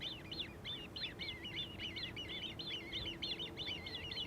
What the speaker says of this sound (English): it's the baby grebes that you are constantly hearing